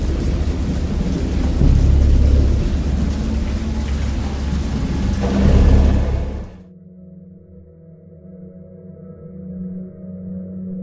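Heavy rain roars with deep rumbling thunder, loud and close, then cuts off abruptly to a quiet low hum.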